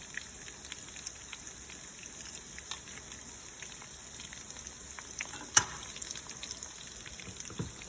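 Chicken cutlets fry in a hot pan with a steady, dense crackle and sizzle, joined by scattered sharper pops and one louder spit near the end, with no voices.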